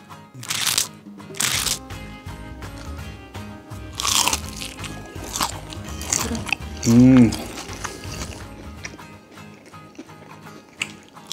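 Crispy Kanzler chicken nuggets are bitten and chewed up close, with repeated loud, dry crunches in irregular bursts and a brief voice partway through.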